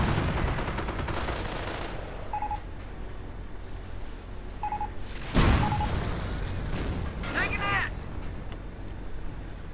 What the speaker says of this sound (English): Troops dying, tanks getting blown up.